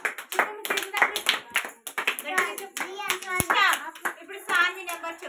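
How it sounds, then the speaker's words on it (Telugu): Anganwadi preschool children clap their hands hard and steadily in a close, lively burst of sharp slaps, while an adult and kids keep talking and calling out over the clapping. "గట్టిగా కొట్టాలి క్లాప్స్."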